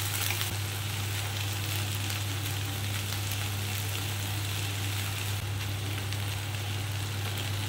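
Corn kernels frying in butter in a pan, giving off a steady, close hiss of sizzling that holds even throughout with no voices.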